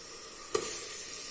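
Chopped tomatoes, two large ones, hit hot oil in a pan while sautéing for a vegetable biryani, with a low steady sizzle and a brief stirring clatter partway through.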